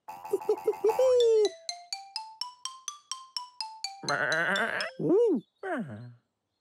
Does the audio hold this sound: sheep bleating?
yes